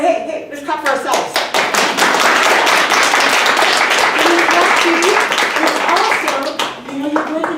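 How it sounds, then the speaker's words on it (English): A group claps for themselves during a healing session for medical professionals, brisk crisp hand claps starting scattered, building into sustained loud applause, then tapering with a few voices in the background. "Oh, hey, let's clap for ourselves."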